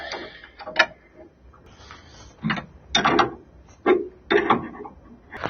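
A steering nut being removed from a 1968 Camaro during a manual-to-power steering conversion, heard as a series of irregular metallic clanks and ratcheting knocks, close and moderately loud, with no talking.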